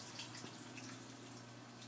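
Water running steadily into a container while making juice at home, a continuous close splashing stream with no talk.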